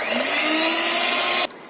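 Eggs beaten into chocolate sponge cake batter with an electric mixer, a steady loud whirring hum running continuously, then cutting out abruptly near the end.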